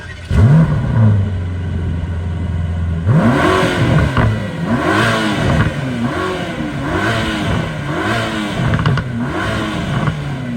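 Mercedes-AMG GT Black Series with a quad exhaust revving hard: a steady idle drone, then a rising and falling series of loud, close blips and revs that repeat rhythmically, with no talking over it.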